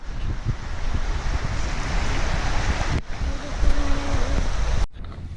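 A creek runs down through a wooded outdoor spot, giving a steady broadband rush of flowing water with some wind buffeting and a brief break near the end.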